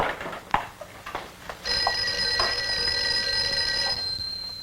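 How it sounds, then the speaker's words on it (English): A telephone rings with a steady, sustained electronic trill lasting several seconds, heard after a few brief knocks and rustles in a quiet room with no voices. "I think your phone is ringing."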